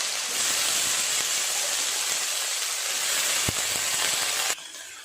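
Vegetables frying in hot oil tempered with five-spice and a chilli give a steady, loud hiss that holds evenly, then cuts off abruptly near the end.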